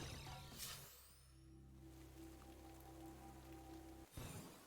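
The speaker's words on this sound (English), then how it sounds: "It's raining. That's already a bad sign." Steady acid rain in the game Starbound patters on a surface, with a low tonal hum underneath and a brief sharp sound near the start.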